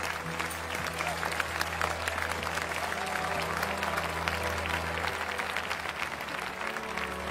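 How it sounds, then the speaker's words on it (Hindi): Steady applause from a crowd fills the whole stretch, dense and even, with a low hum underneath and no break in the clapping. "तालियां।"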